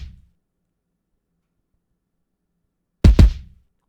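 Layered FL Studio kick drums, WG Kick 7 blended with RD Kick 2, struck twice in quick succession after silence, loud and punchy with a deep low thump and a bright top smack.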